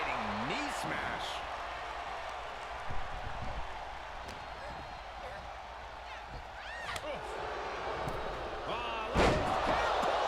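A heavy thudding slam from a knee smash in the WWE 2K25 wrestling game, with a second impact later, set under continuous commentary and crowd noise.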